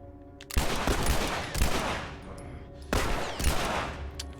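Gunfire from The Last of Us video game, with two loud broadband bursts of rapid shots followed by a lingering noisy tail and then a third burst, close and dominant with no talk.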